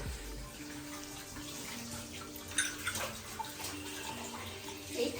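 Hands wash under cold running tap water, a continuous splashing flow with a few louder splashes and drips near the end.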